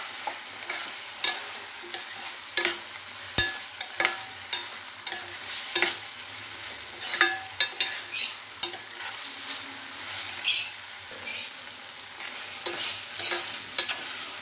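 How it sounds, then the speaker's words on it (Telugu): Ginger garlic paste fries in a pan for a gongura egg curry, a continuous sizzle broken by regular sharp scrapes and clinks of a spoon stirring. "ఇది కొంచెం ఫ్రై అవ్వాలి, పచ్చి వాసన పోయేదాకా వేయించాలి."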